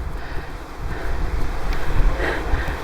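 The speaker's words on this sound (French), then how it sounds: "Well, is that windy, eh?" Wind buffets a microphone outdoors during a landscape photography shoot, producing a continuous low rumble with gusty surges that rise toward the end, with no voices.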